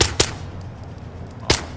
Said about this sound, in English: Yeah, I had to shoot a guy.